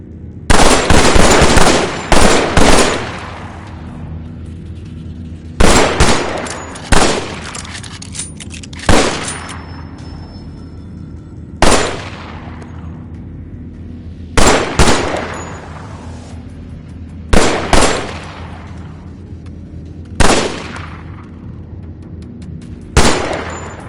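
Gunshots ring out at targets down a range in the video game Killing Floor Incursion: about eight loud bursts, each a sharp crack or quick rattle with a fading metallic tail, spaced every two to three seconds, no voices.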